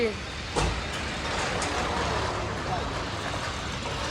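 A heavy truck engine rumbles steadily close by as the truck reverses, with a short thump early on and a constant noisy drone throughout.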